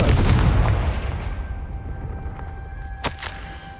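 A fiery spell explosion in the Hogwarts Legacy video game opens with a loud, booming blast that rumbles and fades over a few seconds, followed by a sharp, brief crack near the end.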